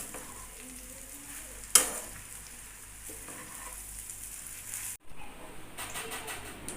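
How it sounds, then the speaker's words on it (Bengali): Rice being fried and stirred in a pan with potato, soybean chunks and whole spices for soybean pulao, a low steady sizzle broken by sharp utensil clanks and scraping, with a brief cut near the end. "এবার ভাতটাকে সব কিছুর সঙ্গে ভালো করে ভাজতে হবে"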